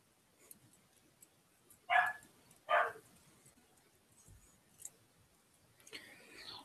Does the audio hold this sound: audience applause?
no